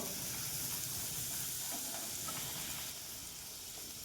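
Rolled dough frying in hot oil, a dense continuous sizzle and hiss, steady and close throughout with no voices.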